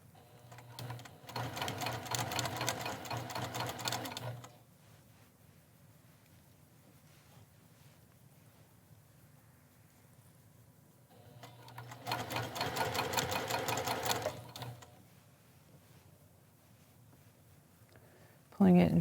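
A sewing machine runs two bursts of stitching along a neckline seam, each lasting a few seconds, separated by a long quiet stretch with faint handling sounds.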